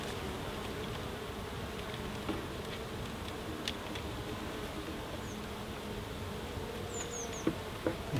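Honey bees flying into a hive after being moved from a crowded, bearding nuc, making a steady, continuous buzzing drone with a few faint clicks and chirps over it throughout.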